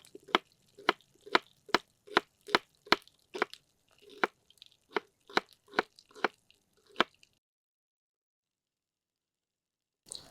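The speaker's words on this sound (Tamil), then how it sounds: "இப்போ வெங்காயத்தை டக்குன்னு ஸ்லைஸ் பண்ணி நம்மளுடைய கிரேவியில் ஆட் பண்ணிக்கலாம்" Knife slicing through an onion on a cutting board for a country chicken gravy, a quick run of about fifteen crisp, evenly spaced chops, close and alone, then silence.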